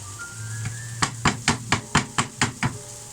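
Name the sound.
onions being cooked in a pan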